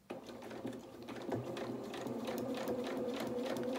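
A sewing machine stitches fabric for a doll's dress at a steady, even speed, its motor hum and needle clatter continuous and fairly faint throughout.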